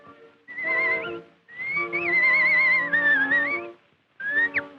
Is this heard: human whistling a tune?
yes